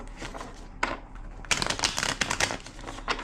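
Tarot cards are shuffled by hand, with quick riffling bursts and soft slaps coming in close, uneven clusters.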